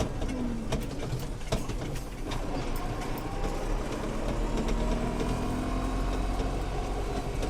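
A Renault Temis 550x tractor driving along, its engine a steady loud mechanical drone with rattling and clanking, continuous throughout and heard close from the cab.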